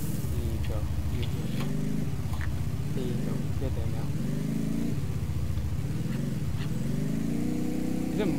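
A vehicle engine in the Roblox game Restaurant Tycoon 2 drones steadily at close range, its pitch rising and falling in repeated revving swells, with occasional short clicks over it.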